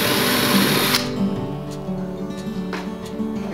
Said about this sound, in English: use a 3/8 inch drill bit and go ahead and drill that hole